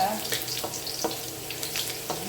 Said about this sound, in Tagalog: Ayan, tayo ay mag-gisa.